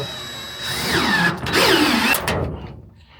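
A power rivet tool sets the final rivet in a Sprinter van during a shower install, giving a loud, steady whirring drive of about two seconds that cuts off and fades into quiet.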